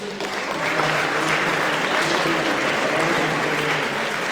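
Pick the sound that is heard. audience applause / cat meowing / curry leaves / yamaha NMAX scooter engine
audience applause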